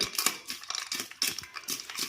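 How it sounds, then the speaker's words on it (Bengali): Puffed rice being mixed by hand with onion, peanuts and fried chilli, a close, rhythmic dry crunching and rustling in repeated strokes, no voices. "তাকে একটু মাখিয়ে নেবো ভালো করে"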